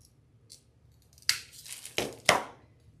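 Scissors cutting decoration for a summer lemon wreath: a few quick, crisp snips close by, three distinct cuts in short succession with quiet moments between.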